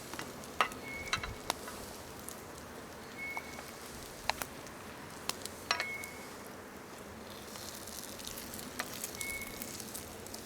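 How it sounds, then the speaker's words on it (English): Cornmeal mush fries quietly in a pan, a soft, steady sizzle with scattered sharp ticks and clinks of a spoon and fork against the pan, close and low in level. "Once you get the underside golden brown, flip it over, fry the other side."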